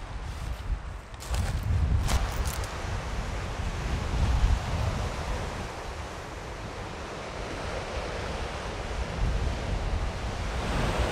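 Ocean surf washes continuously onto China Beach, a broad, steady roar of breaking waves with wind buffeting the microphone, a few brief knocks early on and no speech.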